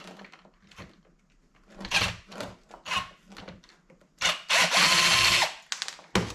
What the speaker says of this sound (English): I'm going to pull all the wires out of the way so I can cut some ears off this stator plate.